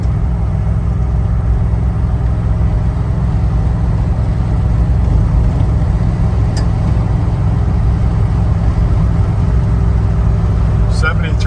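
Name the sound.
1978 Ford Bronco engine running, driving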